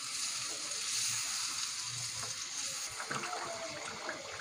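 Yogurt sizzling and frying in a pan on low heat while cooking chicken korma, a steady soft crackling hiss with light bubbling throughout.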